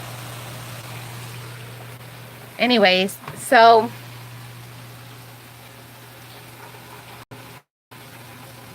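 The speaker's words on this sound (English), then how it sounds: "Look at all that rain." Heavy rain pours down in a steady, broad hiss that fills the whole stretch, with a voice briefly speaking over it partway through.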